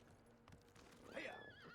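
Horse whinny in the Ghost of Tsushima video game, a single rising and falling neigh in the second half, fairly loud over quiet in-game ambience with faint hoof clip-clops earlier.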